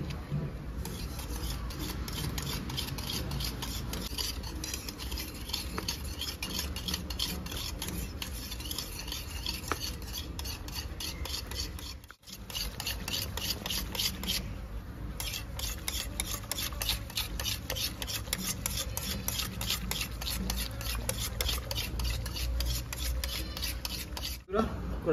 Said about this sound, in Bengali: ভালো করে ফেটে নিতে হবে এইভাবে।